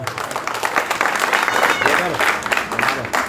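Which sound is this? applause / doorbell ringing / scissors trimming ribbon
applause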